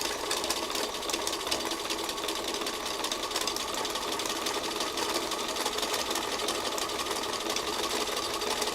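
A sewing machine runs continuously and evenly, stitching fabric along a gentle curve with a fast, steady mechanical whir close to the listener and no speech over it.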